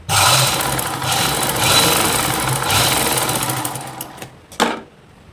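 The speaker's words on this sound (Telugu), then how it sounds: "ఇలా లోపలికి ఫోల్డ్ చేసి పెట్టే స్టిచ్ వేయాలి" Sewing machine running steadily as it stitches a folded fabric seam, a loud close whirring drone for about four seconds that slows and stops, followed by a couple of brief clicks.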